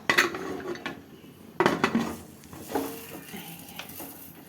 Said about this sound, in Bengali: লাগিয়ে দিলাম সিটি